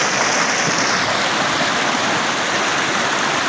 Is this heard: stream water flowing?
yes